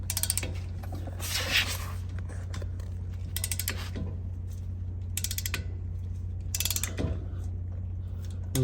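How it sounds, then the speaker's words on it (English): A ratchet clicks while pushing the front brake caliper pistons back on a Toyota 4Runner, with repeated bursts of close, sharp ratcheting over a steady low hum. "I want to start ratcheting, and that'll push our pistons for the caliper back inside it"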